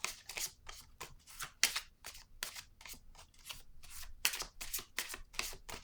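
Quick papery flicks and shuffles as cards are handled and a pink card is drawn from a deck, close and soft, in a rapid irregular run of short strokes with no talking.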